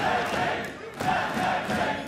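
A large esports arena crowd at a League of Legends playoff semifinal between Fnatic and G2 roars steadily throughout, a dense wash of cheering with swells and no clear gaps.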